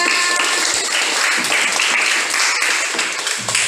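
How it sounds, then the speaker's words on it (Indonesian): Applause for a student group presenting in a university social studies class, a steady dense wash of clapping that runs through the whole stretch at fairly close range with no talk over it. "Tepuk tangan untuk kelompok 3."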